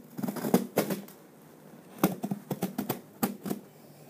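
Tape on a packaged Ultraman X kaiju toy figure is cut and torn open with scissors, making a series of sharp, close clicking snips and crackles in two short clusters, fairly quiet, with no talking.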